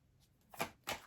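Tarot cards being shuffled: two quick, soft riffling bursts close by in an otherwise quiet room, with no voices.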